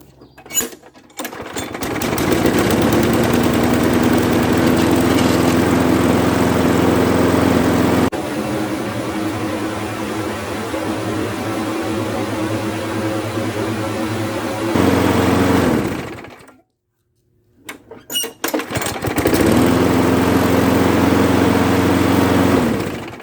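A repaired lawn mower engine runs at a steady idle drone, loud and close, changing pitch slightly midway, then briefly cutting out before starting up again with no talk over it.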